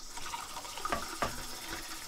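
Water poured into a blender of seeds: a faint, brief splash and trickle with a couple of quick gushes, quiet and close in an otherwise still room.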